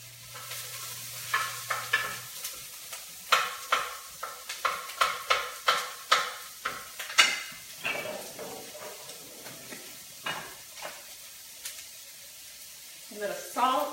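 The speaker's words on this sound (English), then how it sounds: "I'm gonna throw in my 4 onions" Four onions hit a hot pan and sizzle while being stirred for a slow-cooker posole, with a string of sharp utensil scrapes and clacks over a low, steady frying hiss, close by.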